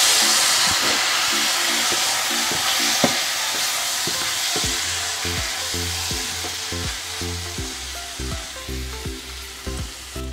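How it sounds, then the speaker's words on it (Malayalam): Chicken upperi sizzles loudly in a pan as chicken stock is poured in and a spoon scrapes and stirs in a steady repeating rhythm, close up with hissing steam. "ഇനി ഇതിലേക്ക് ഞാനൊരു 1/2 കപ്പ് നേരത്തെ ചിക്കൻ വേവിച്ച ആ ഒരു സ്റ്റോക്ക് ഇതിലേക്ക് ഒഴിച്ചു കൊടുക്കുന്നുണ്ട്."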